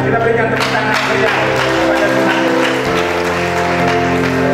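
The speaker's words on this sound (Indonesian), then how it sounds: "Ya, kita berikan tepuk tangan ya." Guests at a wedding celebration between Papuan and Batak families clap loudly over steady, droning music, and a voice talks through the applause.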